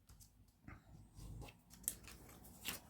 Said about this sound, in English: it's only paper, so it's quite easy to fold